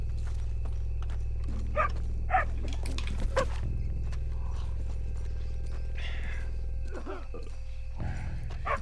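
Horse hooves clip-clop steadily at close range in Red Dead Redemption 2, with a dog making short vocal sounds and whines among faint background ambience.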